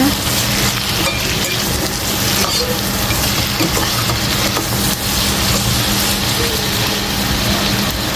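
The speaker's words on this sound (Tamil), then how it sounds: "தக்காளி பழத்தையும் போடுறேன் அதையும் சேர்த்து வதக்கணும்" Chopped vegetables and tomato sauté in a hot pan, giving a loud, steady sizzle that runs unbroken from start to finish with no voices.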